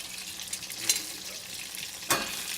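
Butter sizzles steadily as it melts and browns in a pan on high heat, a close, even crackle with a couple of sharper stirring scrapes and no talking.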